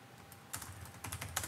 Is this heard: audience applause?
no